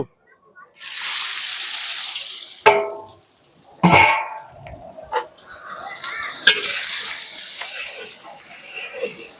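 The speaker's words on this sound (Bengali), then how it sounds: "পেঁয়াজ কুচি আর কাঁচা লঙ্কা ভেজে নেবো।" Chopped onion and green chili frying in hot mustard oil, a loud sizzle bursting in and then hissing steadily with clatters and scrapes of stirring in the pan.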